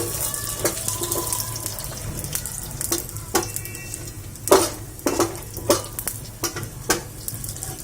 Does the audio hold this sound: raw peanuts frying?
yes